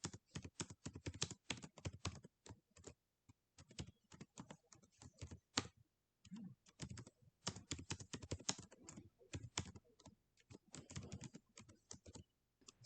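Python code being typed on a computer keyboard, a dense run of rapid clicky keystrokes in bursts with short pauses, close and fairly quiet with no voices.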